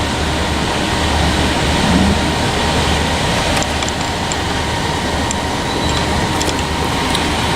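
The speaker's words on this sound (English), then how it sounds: "Well, it looks like this train's coming to a stop" Train slowing to a stop at Union Depot, a steady loud rumble of rolling wheels with faint squeals and clanks near the end, no voices.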